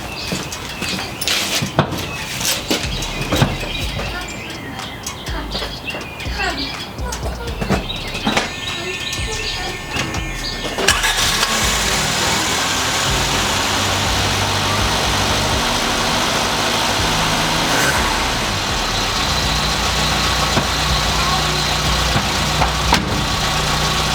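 A car engine starts and settles into a smooth, quiet idle after an exhaust manifold leak fix, with clanks and handling noises before a steady low hum takes over.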